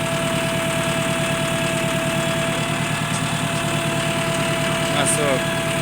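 A car engine runs loud and steady close by, droning with a constant hum, while people talk over it.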